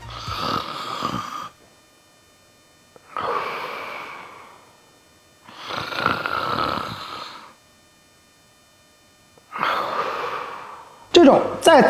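Loud close snoring with breathing pauses, four long rasping snores separated by silent gaps before a sudden sharp gasp for air at the end.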